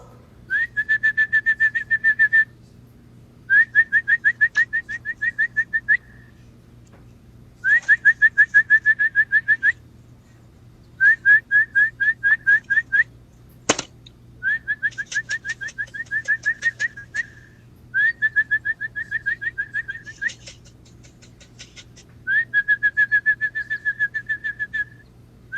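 Repeated bursts of rapid, whistling pigeon calls in regular phrases, fairly close, with a steady low hum underneath and one sharp click midway.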